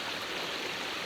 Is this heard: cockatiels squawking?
no